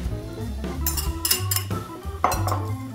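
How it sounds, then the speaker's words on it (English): Utensil clinking and scraping against a bowl as eggs are whisked into a corn cake batter, a busy close rattle of metal on dish with no talking. "Give that a whisk"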